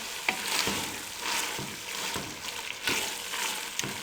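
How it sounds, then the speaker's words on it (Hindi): Mixed vegetables with chicken and garam masala frying in a pan, a continuous close sizzle punctuated by rhythmic stirring scrapes roughly every second. "अब इसको भी 2 मिनट के लिए अच्छे तरीके से भून लें।"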